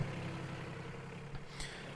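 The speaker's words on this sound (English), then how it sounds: "this little John Deere, this little compact tractor" A small John Deere compact tractor engine runs steadily at low idle, a continuous faint rumble with a couple of light knocks near the end, no talking.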